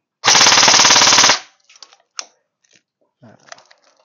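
Airsoft electric BB gun, an M16A4 by Golden Eagle, fires one loud sustained automatic burst lasting about a second, followed by faint clicks and handling noises.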